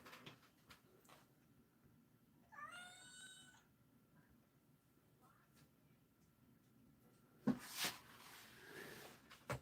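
A mother cat with kittens gives one clear, drawn-out meow near the start, then quiet rustling and a couple of louder knocks or bumps later on.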